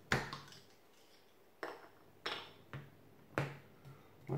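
A bottle of Wolf Pils beer from Rüdenhausen is opened, giving several sharp, close clicks and metallic snaps of the cap spaced out over a few seconds, with quiet pauses between them and no voices.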